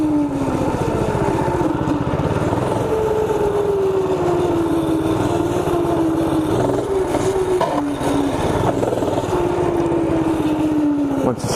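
A minibike engine revs steadily during a wheelie, its pitch sliding down and climbing again as the throttle shifts, loud and close the whole time.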